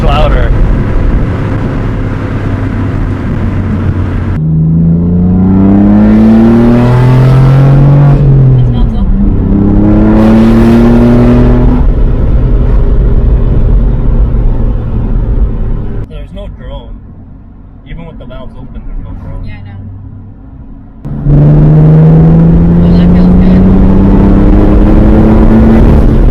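A BMW F80 M3 with a Stone valvetronic exhaust, valves held open, revs hard several times up close, each loud rising blip falling back to a deep idle rumble.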